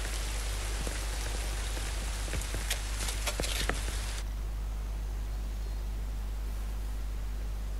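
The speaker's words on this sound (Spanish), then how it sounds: "Solo quiero que deje de llover, mierda." Rain hisses steadily in Tom Clancy's The Division 2, a dense broadband wash with a few faint ticks, then drops abruptly to a duller, quieter rain texture midway.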